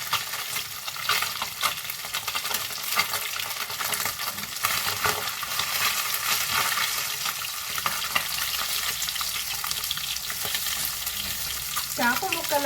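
Pieces of fish sizzle and crackle loudly in a hot pan as they fry, a dense continuous spatter with occasional stirring clinks, no voices.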